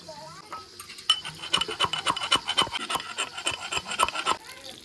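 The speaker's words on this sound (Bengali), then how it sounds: "অনেকগুলো আমি রসুনের কোয়া নিয়ে নিয়েছি, এবার এটা থেতলে নেব" Garlic cloves being crushed in a home kitchen, a rapid run of close, gritty scraping and pounding strikes in an uneven rhythm, with quieter rustling before it starts.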